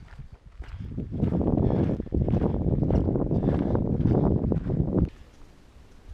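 Strong, steady wind gusts buffet the microphone outdoors on a long backcountry hike, a loud continuous rumble lasting about five seconds before dropping abruptly to a quieter breeze.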